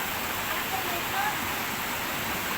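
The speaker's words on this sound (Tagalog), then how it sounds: "dito naman kami ngayon sa falls. Sa Baler Falls." Steady broadband rush of Diquisit Falls (Baler Falls) in Aurora, a constant close roar of falling water with no breaks, loud and even throughout.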